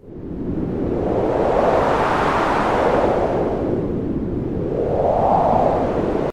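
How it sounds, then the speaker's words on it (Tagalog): A loud, roaring gust of wind in a storm swells and sweeps past, easing off then surging again in a second rushing wave. "Sumunod ang bugso ng hangin at parang humahagulgol ang mga ulap sa langit."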